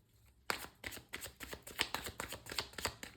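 Tarot cards shuffled and drawn by hand: after a brief quiet start, a steady run of crisp, close riffling snaps and flicks repeats about every few tenths of a second, soft and alone.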